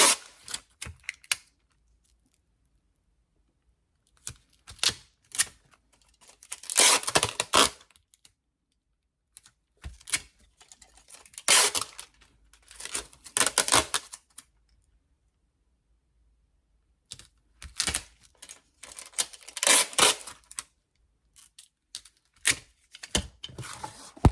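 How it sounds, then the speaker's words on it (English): Packing tape pressed and smoothed over the front of a journal cover to hold its stickers, giving close crinkly, crackling bursts that come in separate spurts with quiet pauses between them. "So I always cover most of the front with packing tape to keep the stickers on there and protect them"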